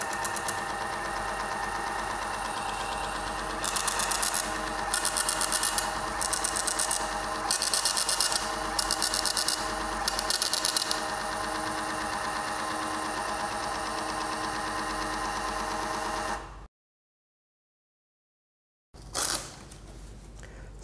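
WH-T2 thermal printer printing a label from a SKY-C weighing scale: a steady electronic hum with a series of short rhythmic buzzing feed bursts, then a brief dropout and one more burst.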